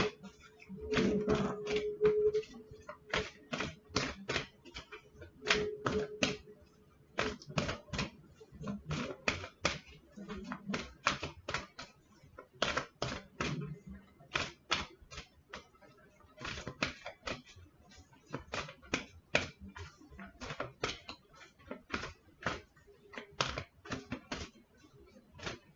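Wisdom of the Oracle tarot cards being shuffled and pulled, a long run of rapid, crisp card flicks and riffles close up, with occasional brief soft talk between bursts.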